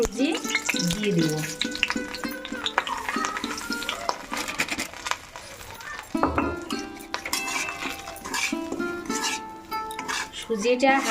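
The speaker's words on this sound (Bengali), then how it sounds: "সুজিটা হালকা আঁচে ভেজে নিতে হবে, পোড়ালে হবে না" Semolina fries in ghee in a wok over low heat, a gentle sizzle broken by repeated scraping and clinking of a spoon stirring against the pan, over melodic background music.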